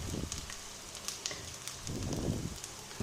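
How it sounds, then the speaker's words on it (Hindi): Onions frying in a pan for a home-cooked dish, a steady crackling sizzle with louder bursts of spattering, close and continuous with no voices over it. "प्याज हल्के से फ्राई हो चुके हैं"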